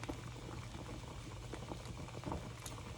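Pots boiling on a kitchen stove give a faint, steady bubbling and soft crackling simmer, with low hum underneath and no talk.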